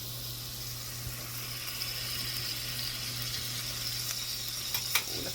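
Half a stick of unsalted butter sizzling and melting in a hot pan for buffalo sauce, a steady soft crackle and hiss close by, with a few small pops near the end and no talking.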